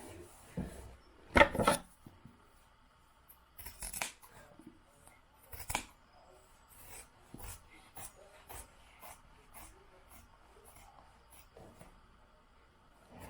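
Scissors snip through lined curtain fabric in a home room, giving scattered close crisp cuts and rustling, with a loud burst early on and quieter intermittent snips afterward.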